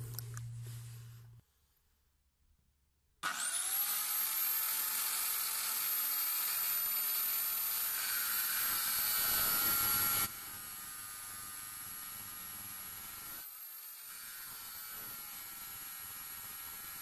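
A Parkside PMTS 180 A1 cut-off saw cuts metal: after a short silence the motor starts and holds a loud, steady high whine with grinding, then drops to a lower running level and continues evenly.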